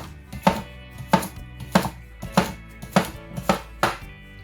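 A knife chops a cucumber on a board while a ginger and cucumber detox drink is prepared for the blender: seven evenly spaced, crisp, close thuds in a steady rhythm, with no talking.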